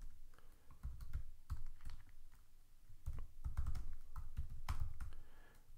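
Computer keyboard keys clatter in quick irregular bursts as commands are typed at a command line, close and moderately loud, with short pauses between runs of keystrokes.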